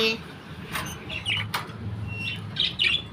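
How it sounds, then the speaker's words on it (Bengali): Several pet birds squawk and chirp in short bursts, fairly close, over a steady background hum, with a couple of sharp clicks. "আর এই যে কিছু পাখি রয়েছে দেখো"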